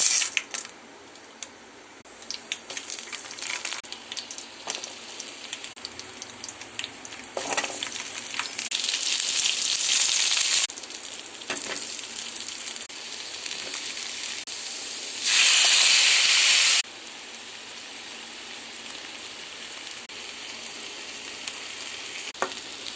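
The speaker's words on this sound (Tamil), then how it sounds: "ஒவ்வொரு பொருளாக போட்டு வதக்கி எடுத்துக்கலாம்." Vegetables sautéing in oil in a kadai for a spicy chutney, a close sizzle and hiss with intermittent stirring scrapes and occasional clinks, rising into loud bursts of spitting as ingredients are added, with no talking.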